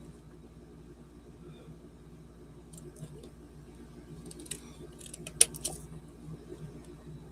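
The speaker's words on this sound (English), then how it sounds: "I'm going to trim this up a little." Scissors trim a piece of paper card for an art project, with a few faint, brief snips over a quiet room background, the sharpest cut near the end.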